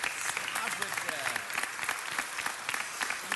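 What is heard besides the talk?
applause at city council meeting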